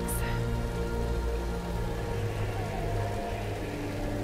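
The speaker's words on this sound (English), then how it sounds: "Thankfully, it's raining." Steady rain in the video game Tomb Raider, a dense continuous wash of falling drops with a low rumbling bed, unbroken and fairly loud throughout with no voices.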